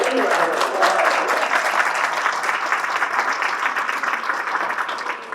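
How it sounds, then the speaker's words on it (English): A university audience at a College of Education event claps steadily for graduate students, a dense, even round of applause that holds for several seconds before tapering slightly. "let's give everyone a round of applause"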